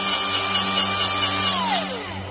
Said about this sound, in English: Now it may take a second to get the actual grease pumped through the tube